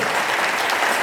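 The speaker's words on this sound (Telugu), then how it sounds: "చేతులు వారే కొట్టండి చప్పట్లు" A crowd of worshippers claps hands together at a Good Friday gathering in a garden in Jagtial, a brief, loud, even burst of dense applause with no pauses.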